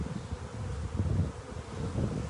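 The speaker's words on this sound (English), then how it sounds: "They're honeybees. They're not going to bother you." A swarm of honeybees buzzes around a hand, a dense, continuous drone close by with slight swells in loudness and no voices.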